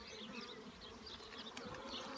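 Honey bees buzz at an open hive during an inspection, a faint, continuous hum of many insects close by with no voices.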